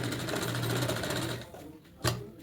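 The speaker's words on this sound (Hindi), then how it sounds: "अब इसको हम पूरे राउंड लेकर इसका अस्तर में सिलाई करेंगे" A domestic sewing machine stitches a blouse lining in a home tailoring setting, whirring steadily for about a second and a half, then pausing briefly before a short second burst.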